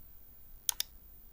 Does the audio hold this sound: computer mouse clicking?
yes